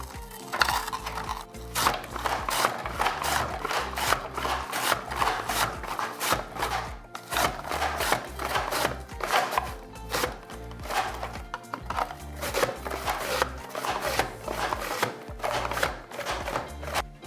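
Rapid, rhythmic slicing strokes of a mandoline blade gliding through firm vegetables, repeating steadily and close by with no talking.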